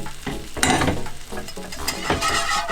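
Sauce for Swedish meatballs being stirred in a pan as stock is added, with a steady sizzle and bursts of scraping and bubbling; no one speaks.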